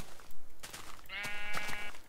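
A sheep in the Minecraft video game gives a single wavering bleat in the middle, surrounded by sharp game clicks and thumps.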